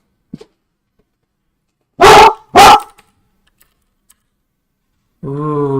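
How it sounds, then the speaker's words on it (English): A dog barks twice in quick succession, loud and close, with a short pause between the barks and quiet around them, then a higher-pitched whine or yelp follows near the end. "Ooh, doggy."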